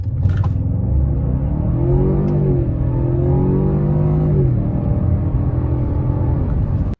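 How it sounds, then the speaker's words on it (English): A Ford Fusion Sport accelerates hard, with a loud, close engine rumble whose rising tone climbs through gear changes over about seven seconds before stopping abruptly. "So I'm going to use one of our acceleration clips and insert that here."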